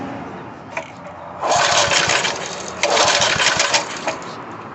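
A frozen Coleman Powermate 2000 watt PM54-2000 generator with a carburetor needing a rebuild is cranked close by. It gives two loud bursts of engine sputter that catch briefly and then die, with quieter rattling between them.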